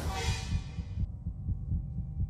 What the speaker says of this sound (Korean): 왜 심장 소리 왜 이래?